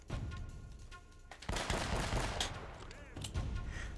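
Pistol shots ring out in the video game Uncharted, a few sharp cracks followed by a dense stretch of gunfire and impacts, loud and close amid game sound.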